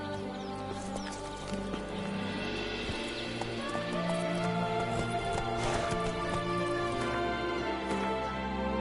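Roach, a horse in The Witcher 3: Blood and Wine, clops along with steady hoofbeats under an ambient game soundscape, the footfalls even and fairly close.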